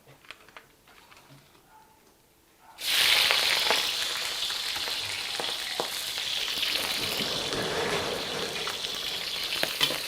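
Food frying in oil in a new wok being seasoned: after near-silence, a loud, steady hiss and crackle of sizzling oil starts abruptly and continues without pause to the end, close up.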